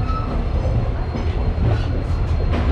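Matsyagandha Express rolls into Lokmanya Tilak Terminus in Mumbai, a loud, steady rumble of wheels and carriages with rhythmic clatter and light squeal near the end.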